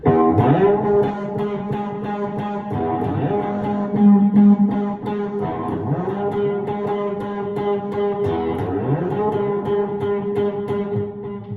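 A distorted electric guitar riff from a song repeats in steady cycles, with sustained low chords and sliding bends, played alone at moderate volume.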